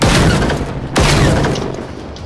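Loud bursts of gunfire ring out while robots are shot in the video game Generation Zero, with two sharp blasts and a rumbling decay after each.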